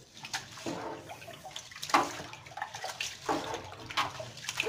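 Soybeans being stirred by hand in water to clean them for tempeh, giving close, irregular sloshing and splashing with small drips, fairly quiet and without talk.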